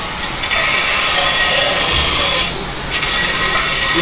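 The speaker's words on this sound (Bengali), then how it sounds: "এখানে মেশিনের বিভিন্ন পার্ট শ্যাপগুলো কাটা হচ্ছে" Metal machine parts for chaff-cutters are cut in a factory workshop, giving a loud, continuous grinding rasp that dips briefly midway before resuming at full strength.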